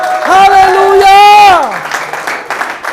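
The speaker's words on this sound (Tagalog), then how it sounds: "Bilang pasasalamat, palakas sa palakpak." A congregation in church applauds, steady crowd clapping heard under a loud sustained shout or whoop at the start, with the clapping going on after the voice drops away.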